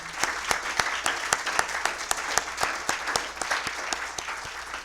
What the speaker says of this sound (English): Let's have a round of applause for all the leads and scribes.